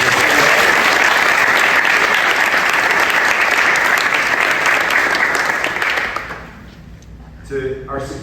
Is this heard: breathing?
no